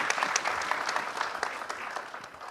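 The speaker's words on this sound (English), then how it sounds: "a round of applause for the organizing committee" Conference audience applause, a brisk patter of many hands clapping at close range, continuous throughout and not interrupted by talk.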